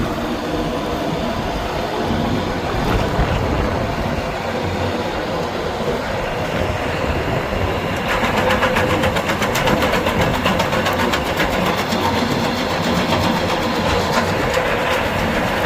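An Arpal 80 machine runs off a tractor's power take-off shaft, giving a loud, steady mechanical drone with a rhythmic clatter. A brighter, busier rattle joins partway through, and no one speaks.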